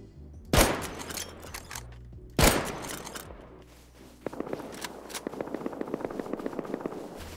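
Video game gunfire: two loud separate shots with ringing tails, then a quick steady stream of automatic fire rattling evenly for several seconds, fairly close and with no talking.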